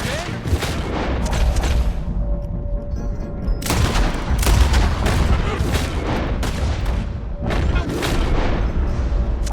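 Dense volleys of gunfire crackle and boom in Red Dead Redemption 2, loud rapid shots overlapping in bursts with brief lulls, echoing across an open shootout.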